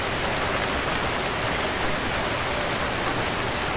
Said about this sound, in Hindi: बारिश तो बंद ही नहीं हुई, बल्कि और तेज हो गई है।